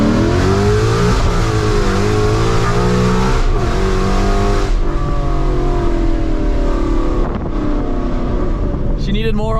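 A car on skinny drag tires revs hard and launches, its engine note loud and close, climbing through the gears with strong wind rush, and a voice is briefly heard over it.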